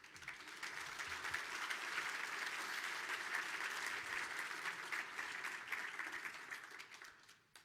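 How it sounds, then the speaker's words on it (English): An audience at a morning economic-outlook breakfast event gives a steady round of applause lasting several seconds, dense and moderately loud, then tapering off at the end. "let's give them a round of applause"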